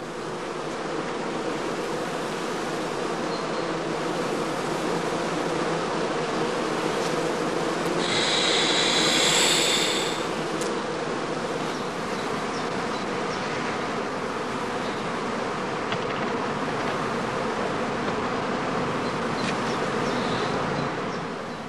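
Honeybees buzz in a dense, continuous drone at the entrance of straw skep hives prepared for swarming, loud and close throughout with a slight swell in intensity midway, no voices present.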